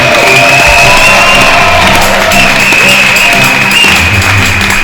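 A church congregation cheers and applauds at a service, making a loud, continuous roar of clapping with shouts and whoops mixed in.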